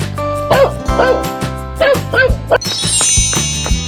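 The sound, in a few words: dog barking in an animal video game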